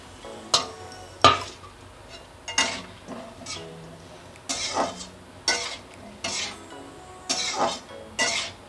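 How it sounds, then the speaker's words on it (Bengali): Cauliflower and potato pieces are stir-fried with spices in a pan for a Bengali vegetarian curry, with a soft sizzle under a series of sharp scraping stirs that come in irregular bursts roughly every second. "দুই মিনিট ধরে ফুলকপি আলু কষিয়ে নেব"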